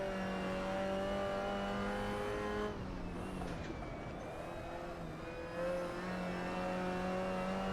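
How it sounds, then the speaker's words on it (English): 1960s saloon race cars, Mustangs among them, race hard at Goodwood in the Assetto Corsa driving game: a steady, close engine drone that dips and whirs briefly mid-way before the revving resumes. "pretty cars being raced very hard."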